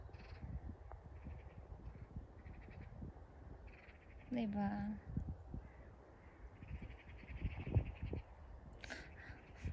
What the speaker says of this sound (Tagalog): Grabing ingay ng mga ibon.